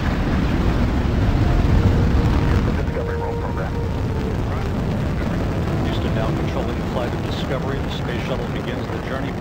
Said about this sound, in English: Main engine start. 2, 1. Boost ignition and liftoff of the Space Shuttle Discovery